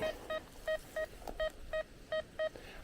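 A RicoMax 732 RSW metal detector gives off a steady series of short electronic beeps, evenly spaced, over a faint background hiss.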